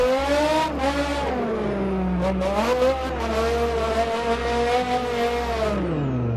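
A BMW E60 M5 engine drifting in the racing game Assetto Corsa, a loud sustained V10-style howl rising and falling with throttle, with brief lifts and a low tire rumble underneath.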